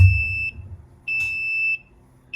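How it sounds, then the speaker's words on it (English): A shrill electronic alarm from a beer controller beeps in two long, loud blasts separated by a short gap, with a third starting at the end. "But alarm works, it's much louder now."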